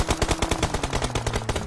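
Rapid bursts of automatic gunfire from opposing players in a competitive shooter video game, a fast steady rhythm of sharp shots lasting the whole moment, loud and close with no talking.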